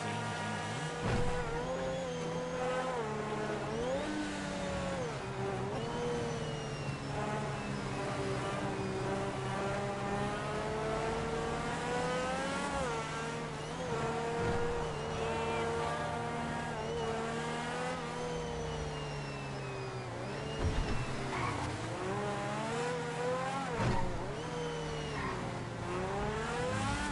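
A Mercedes AMG engine at a car meet in GTA Online holds a sustained, loud drone with rising and falling revs and harmonic whine, idling and blipping up close for the whole stretch.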